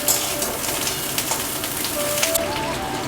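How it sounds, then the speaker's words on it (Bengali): Cauliflower florets fry lightly in oil in a pan, a dense continuous crackling sizzle close by with small pops and a faint high tone near the end. "ফুলকপিগুলো একটু হালকা করে ভেজে নেব"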